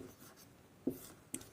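A pen scratches out a definition in a Class 10 maths lesson: brief soft strokes followed by two sharper taps, close and quiet with no speech.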